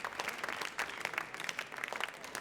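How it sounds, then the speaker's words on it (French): Audience applause at a business conference closing session in Lyon, a steady patter of many hands clapping at moderate distance, fairly even throughout with no voices over it. "On applaudit Laurent Fiard, président de MEDEF Lyon-Rhône aussi pour ce mot de conclusion."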